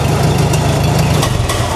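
A Farmall tractor engine idles up close, loud and steady, with a rapid low chugging pulse and broad mechanical clatter throughout.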